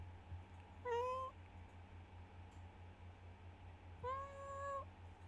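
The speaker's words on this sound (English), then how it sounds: "the tiny little meows of a cat." Two short, high meows from a small calico cat, about three seconds apart, heard alone over a steady low hum and faint background hiss.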